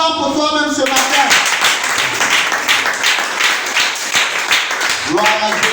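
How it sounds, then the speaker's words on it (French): A church congregation breaks into loud, dense applause for several seconds during a service, with voices heard just before and after the clapping. "Acclame pour toi-même ce matin"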